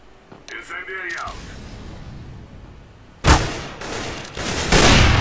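Video game gunfire while shooting an enemy: a short, loud burst of rapid shots after a stretch of quieter game sound, then more firing, with a voice heard early on.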